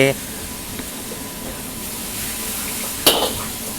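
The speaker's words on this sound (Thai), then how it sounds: "ใส่น้ำผัดลงไปจ้า" Stir-fry sauce hits water spinach cooking in a hot wok, giving a steady sizzle and hiss with a sharp metallic scrape near the end, while someone talks over it.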